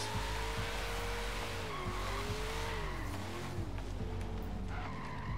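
A 1970 Challenger muscle car, heavy and nearly stock, skids in Forza Horizon 3, its tires squealing in long wavering tones over a loud rumbling engine, continuous and close.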